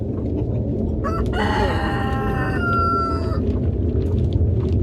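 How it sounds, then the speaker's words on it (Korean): Farmyard chickens, including a white hen at a nest, are heard near a nest box: a rooster lets out one loud, drawn-out crow over a steady background of clucking and clamour. "닭들이 저기 저 옆에서 계속 숱하게 울고 그러는데"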